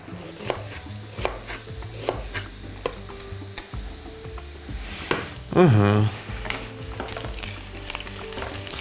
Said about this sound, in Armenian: հենց նույն տապակի մեջ կտապակենք 2 գլուխ սոխ